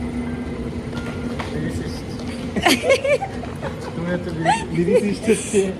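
Rail ambience at a station in Germany, a steady low rumble of train and platform noise with voices and brief laughter cutting in around the middle and near the end.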